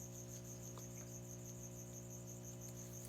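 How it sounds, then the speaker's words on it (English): Small feeder crickets in a crested gecko enclosure chirp in a steady, rapid pulsing trill, faint and continuous over a low electrical hum. "we'll toss in a few small crickets."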